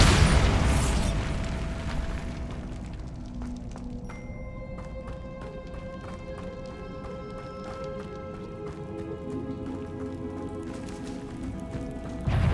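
A Bombarda spell blast in Hogwarts Legacy bursts loudly at the very start, then gives way to tonal game music and ambience.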